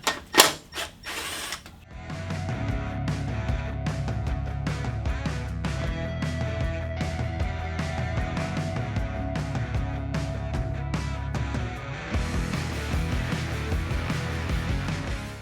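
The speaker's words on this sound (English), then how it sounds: "I don't know if they go through it or not, but I'm going to take them out too." Small screws being taken off the switch cover of a 2016 Harley-Davidson Street Glide with a ratcheting hand tool, giving a steady, close run of fast mechanical clicks that lasts most of the clip after a few sharp knocks at the start, with no talk.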